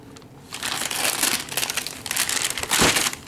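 Wrapping paper ripped and crumpled off a Christmas present, a continuous close-up crinkling and tearing with louder bursts, and no voices.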